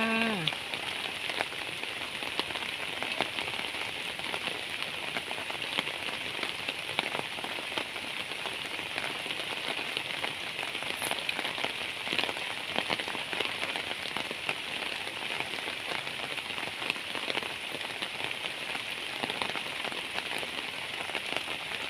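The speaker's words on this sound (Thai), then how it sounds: "ฝนตกแล้วเด้อค่ะ" Steady rain falls over rice fields in an even, dense patter that continues throughout, with no voices.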